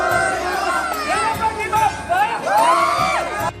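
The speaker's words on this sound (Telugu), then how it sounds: "ఇలా అందరూ కేకలు వేస్తూ గణేషుని అయితే ఎంతో హుషారుగా తీసుకొచ్చి ట్రాల్లోకి ఎక్కిస్తున్నారు" Crowd shouting and cheering while loading a heavy Ganesh idol onto a tractor trolley during a Ganesh Chaturthi procession, several voices calling and whooping in rising bursts, close and lively.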